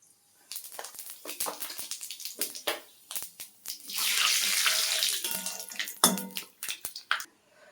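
Panch phoron spices hit hot oil in a wok, giving bursts of crackling sizzle that swell into a sustained hiss midway, then sputter in short irregular pops.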